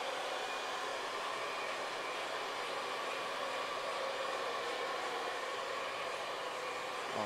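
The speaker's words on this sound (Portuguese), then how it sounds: "À medida que o secador bate, né, na cera, né, na pomada, ele começa a abrir um brilho mais natural do cabelo" A hair dryer blowing hot air onto pomade-styled hair during a scissor haircut, producing a loud, continuous, steady whoosh with no talking.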